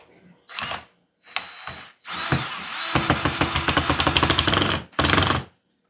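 Bursts of a power drill driving screws to fix metal angle braces onto a wooden shutter lamp, several short close whirring runs followed by a longer loaded ratcheting burst and a final brief spin.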